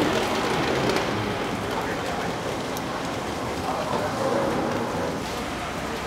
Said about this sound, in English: hang on, starting to rain.